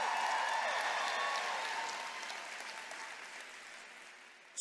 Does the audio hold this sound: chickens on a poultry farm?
no